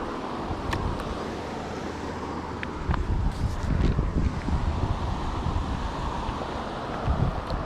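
Strong, gusty wind buffets the microphone beside a river during trout fishing at Roaring River in Missouri, a constant rumbling roar that swells louder midway through.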